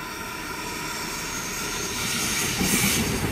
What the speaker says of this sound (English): We have more freight passing through platform number one.